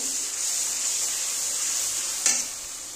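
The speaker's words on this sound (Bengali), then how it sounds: "দেখো এবার আমি একটু হলুদ গুঁড়ো দেবো। ব্যাস, এবার ভালো করে কষিয়ে নেব।" Spice paste with turmeric powder stir-fried in a pan for a Bengali paneer and potato dish, a steady loud sizzle with scraping stirring and one sharper clink of the spoon near the end.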